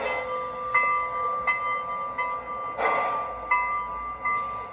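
Small electronic bell tones from an LGB model locomotive's sound decoder ring repeatedly in an even rhythm, close and clear, over a quiet mechanical hum.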